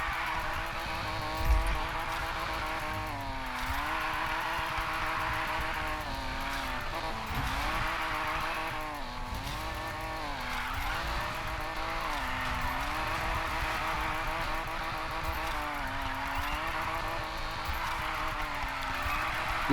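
A Lamborghini Huracan drifts in the racing game Need For Speed Payback. The engine holds a loud, continuous, strained note that dips and rises through each slide, with tire squeal layered on top and no talk.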